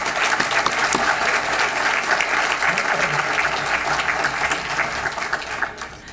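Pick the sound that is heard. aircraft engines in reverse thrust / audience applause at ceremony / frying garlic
audience applause at ceremony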